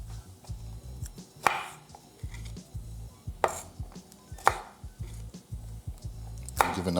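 A knife rough-chops pimento peppers on a cutting board for Trinidadian green seasoning, giving a series of close, sharp, irregular thuds with softer squishy cuts between them and no talking.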